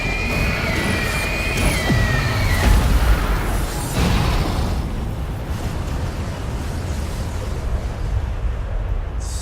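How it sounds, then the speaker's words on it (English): A rather large explosion in a Zelda video game: a deep, sustained rumbling boom with a whistling tone early on, then a long roaring wash that slowly fades but stays loud throughout. "a rather large explosion"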